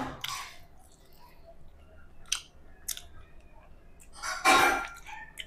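Close, wet chewing and biting on fried chicken in short bursts with quiet pauses between, one louder crunchy bite near the end; no talking.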